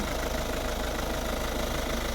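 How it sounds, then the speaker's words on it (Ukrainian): A steady, low 1.6-litre HDi diesel engine of a 2010 Volvo V50 idling close by, with a constant rumble and faint knocking rhythm throughout. "Ось робота двигуна."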